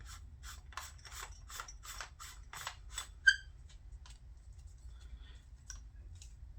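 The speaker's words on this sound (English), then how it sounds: "We take our pommel and we start screwing it in." A pommel is screwed by hand onto a Savi's Workshop lightsaber hilt, with a series of close, rhythmic rasping and clicking turns followed by one sharper click and a few faint ticks.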